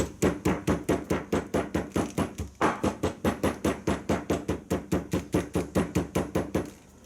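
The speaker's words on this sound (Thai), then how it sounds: "ขั้นตอนสุดท้ายเราจะใช้คอนทุบเพื่อคลายได้สักนิดหนึ่งนะครับ" A hammer taps hand-sewn leather stitching in a fast, even rhythm, about four sharp knocks per second, close and steady with no talking.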